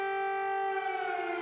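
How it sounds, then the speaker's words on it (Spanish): Air raid sirens sounding over Kyiv, a loud sustained wailing tone holding a steady pitch, heard alone without voices. "Las sirenas ocultan la llamada misa de las campanas en Kiev."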